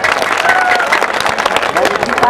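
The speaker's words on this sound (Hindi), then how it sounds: "आपसे अनुरोध है कि ताली बजाकर उनका अभिनंदन करें।" A village audience at a 2013 stage contest in Bahirawad claps to welcome a guest, a dense steady patter of hands mixed with voices speaking.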